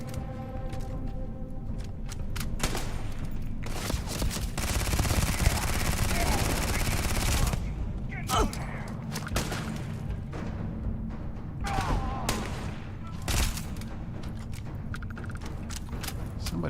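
Gunfire in the sci-fi game Starfield: rapid bursts and scattered single shots cracking out over a steady background, including one long sustained burst of automatic fire, mid-distance and fairly loud, with occasional mechanical clatter.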